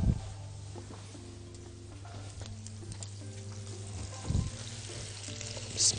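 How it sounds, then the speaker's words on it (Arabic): Chicken pieces for chicken barbecue sizzle steadily on a grill pan as they are turned, with soft clacks and scrapes of handling over a low constant hum. "نقلب الفراخ عندنا."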